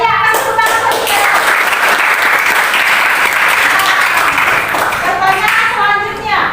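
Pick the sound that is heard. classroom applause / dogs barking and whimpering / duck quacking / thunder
classroom applause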